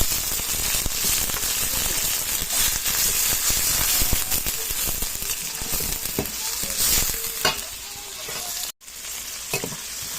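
Tomatoes sizzle and are stirred in a hot pan for a meal of misua and sardines with upo and cabbage, a steady close frying hiss with scraping stir strokes throughout and no talk.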